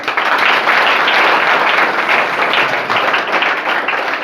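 Students at a workshop clap loudly for themselves, a dense, continuous burst of applause from a nearby group that holds steady throughout.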